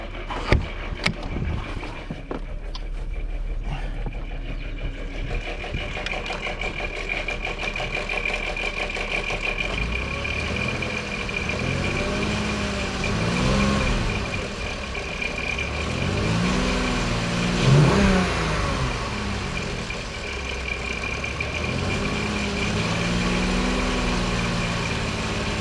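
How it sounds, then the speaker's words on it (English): A 2002 Volkswagen Eurovan with a VR6 engine idles, then revs up and down several times partway through, its pitch climbing and falling in repeated swells before settling back, close and with no talking. "Let's rev it up a little bit."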